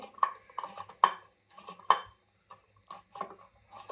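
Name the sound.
knife slicing bitter gourds very thinly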